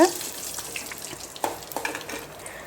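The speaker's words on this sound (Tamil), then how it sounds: "முந்திரியெல்லாம் பொறிஞ்சு வந்துருச்சு" Cashews frying in a pan of oil while making curry leaf rice, a light crackling sizzle with scattered pops and brief stirring scrapes, close and fairly faint.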